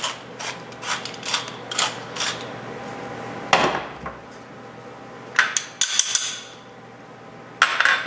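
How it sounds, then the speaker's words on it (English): An appetizer with mayonnaise and lemon juice is mixed and mashed in a bowl, with irregular clinks and scrapes of a utensil against the dish and a few louder knocks. "And mix it and mash it all up nicely"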